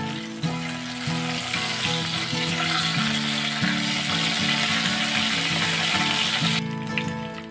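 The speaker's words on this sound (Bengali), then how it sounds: "এই তেলের মধ্যে আমি 2টো তেজপাতা দিয়ে দিলাম, আর গোটা গরম মশলা দিয়ে দিলাম" Bay leaves and whole garam masala (cardamom, cinnamon, cloves) fry in hot oil for a chicken curry, giving a steady, close, crackling sizzle with light stirring clinks throughout, no talking.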